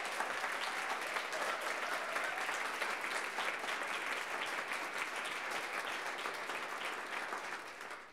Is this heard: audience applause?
yes